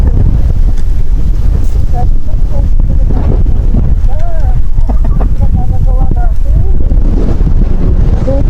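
Strong wind at a beach in Agno, Pangasinan buffets the microphone in a loud continuous roar, with people talking over it throughout.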